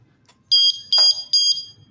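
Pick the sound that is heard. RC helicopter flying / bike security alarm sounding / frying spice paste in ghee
bike security alarm sounding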